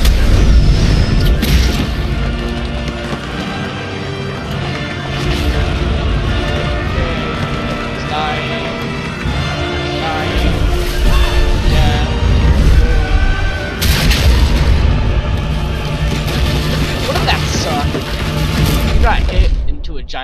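Heavy booms and crashes from explosions in a Star Wars: The Old Republic game trailer, loud and sustained across the whole stretch, with voices speaking over the blasts.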